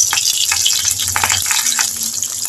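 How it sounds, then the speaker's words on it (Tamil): Steady, bright sizzling of urad dal frying in hot oil, with crackles and small pops throughout, close up and fairly loud. "இப்போ நம்ம வெள்ளை உளுந்து தான் போட்டு தாளிக்க போகிறோம்"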